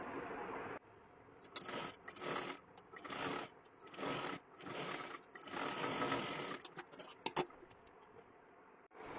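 A sewing machine runs in a series of short bursts, double-stitching a sleeve for a girl's one-piece dress, its rapid whirring chatter starting and stopping with brief pauses between runs, close and alone.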